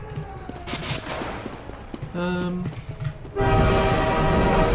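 A train rolls through a video game map amid game effects and gunfire-like bursts, with a harmonic train horn blast partway through before a louder, sustained roar of the passing train.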